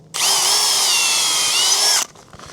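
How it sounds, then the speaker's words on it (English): A power drill bores a tap hole into a maple tree in one continuous high whine of about two seconds, loud and close, then stops abruptly with no talking. "we're at the tree here, so we'll drill a hole."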